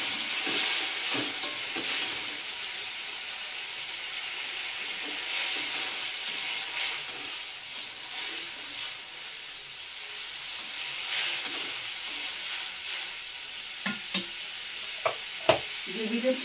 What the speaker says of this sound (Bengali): দেখো বন্ধুরা ঝোল টকবক হয়ে ফুটছে।